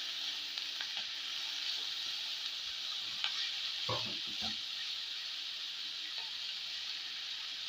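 Ground peanut powder is stirred into a vegetable cooking in a pan, giving a soft, low sizzle with a few brief scraping strokes of the spoon around the middle.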